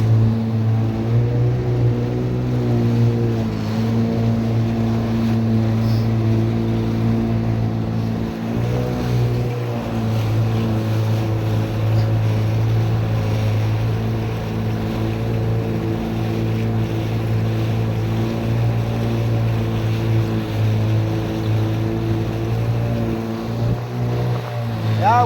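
A small outboard-motor fishing boat (bangka) drones steadily and loudly at close range, a low engine hum with harmonic buzz that runs without pause, with wind and water noise mixed in.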